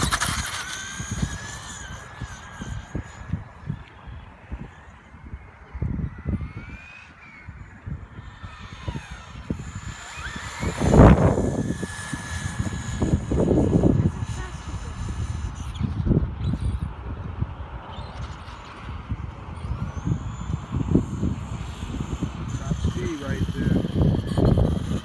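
A Traxxas Rustler XL-5 RC car on 2S battery with stock gears runs outdoors, its electric motor whining in repeated bursts that rise and fall as it accelerates, under wind noise and frequent talking.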